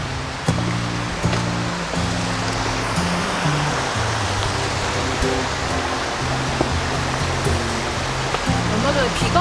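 A stream swollen after recent rain flows steadily in the Pyeongchang-dong area of Seoul, giving a loud, broad rush of water with background music and a little talk mixed in.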